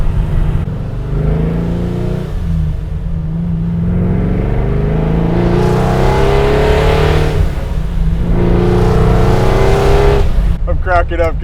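A 680-horsepower Procharged Chevrolet Nova restomod accelerates hard. Its engine note climbs in pitch through repeated pulls, loud and close from inside the car, with voices talking over it.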